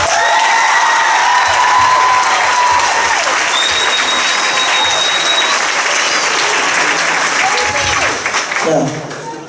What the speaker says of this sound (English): Everyone, please join me in giving a round of applause